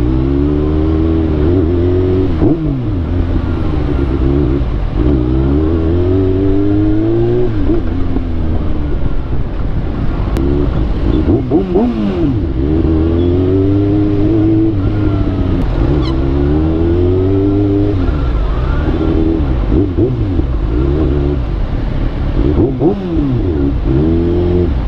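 A motorcycle engine revs repeatedly in traffic, loud and close, with rising and falling pitch sweeps over a constant rumbling drone.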